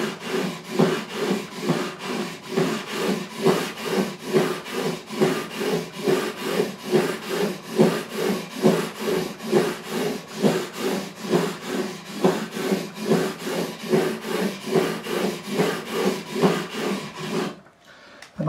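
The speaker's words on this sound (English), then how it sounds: "Let's go back again with 400 grit," Guitar frets on a Simon and Patrick Cedar 6 acoustic are smoothed with 400 grit sandpaper after a fret level, a steady back-and-forth rasping in a quick even rhythm, close and continuous until it stops near the end.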